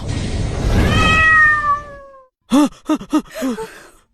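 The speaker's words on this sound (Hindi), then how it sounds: "जैसे उस छोटी बिल्ली ने म्याऊ किया" A small cat meows in a few short, clear calls with rising and falling pitch, close and fairly loud. A noisy, swelling sound with a long falling tone comes before the calls.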